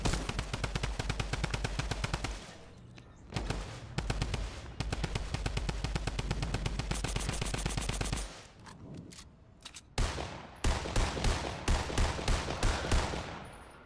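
Drum gun firing in a video game, loud rapid automatic bursts that run for several seconds, broken by short pauses and a few single shots between volleys.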